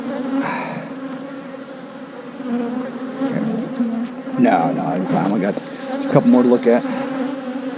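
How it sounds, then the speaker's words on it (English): Honeybees buzz steadily around an open beehive in a new backyard colony, a dense continuous drone near the microphone while a person talks over it now and then. "We got some bees flying, don't we?"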